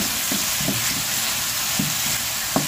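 Potatoes sweetened with a little brown sugar are stirred in a pan over a loud, constant sizzle, with soft scrapes of the utensil repeating every half second or so.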